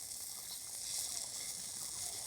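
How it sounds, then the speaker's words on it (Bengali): Jaggery malpua pitha fry in hot oil two or three at a time, giving a soft, steady sizzle with a bright crackling hiss that holds evenly throughout, fairly quiet and with no talking. "এইভাবে করে কিন্তু 2-3টে করে ভেজে নিচ্ছি।"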